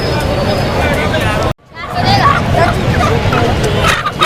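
Chickens clucking and squawking amid a busy crowd's chatter at Lalukhet Birds Market in Karachi, with a brief drop-out partway through.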